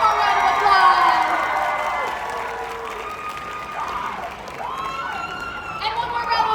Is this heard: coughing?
no